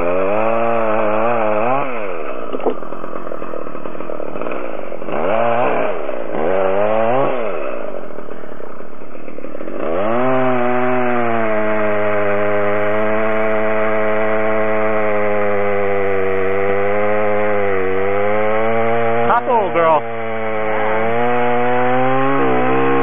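Chainsaw cutting through a blown-over tree, a loud, close two-stroke whine that revs and dips in the first ten seconds, then holds a steady high-pitched drone under load, with no talking.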